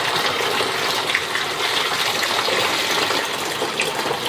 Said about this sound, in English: so I'm going to add the hot water